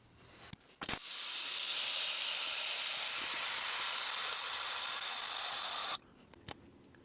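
A large pressure pot for a 24 by 4 by 4 inch mold hissing steadily as compressed air fills it, a continuous loud rush lasting about five seconds between faint clicks and handling noises.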